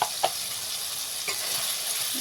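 Potato and tomato fry in a pan while being stirred, with a steady close sizzle broken by a few soft scraping stirs, no voices.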